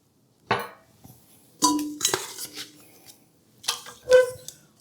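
A stainless steel whisk and other stand mixer accessories for a KitchenAid 7 quart mixer are handled, giving a few sharp metallic clinks and clatters in separate bursts close by, with quiet between them.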